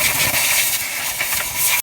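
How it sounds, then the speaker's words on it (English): Compressed air blower blowing dust out of farm combine machinery, a close, continuous loud hiss lasting under two seconds. "I got this little air thing, so I can blow out all the dust in here."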